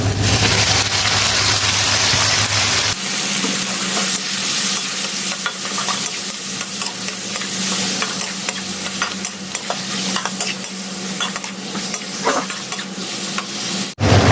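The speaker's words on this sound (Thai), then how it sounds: "วันนี้ผัดให้สุก" Curry paste for a spicy Thai stir-fry hisses and crackles steadily in a hot pan, with a spatula scraping and stirring throughout, loud and close for the whole stretch with no talking.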